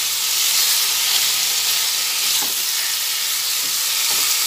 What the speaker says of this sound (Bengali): ভালোভাবে এটা নেড়ে ফেলে নিচ্ছি